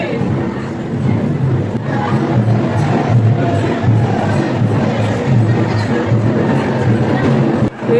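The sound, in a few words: crowd of people at a temple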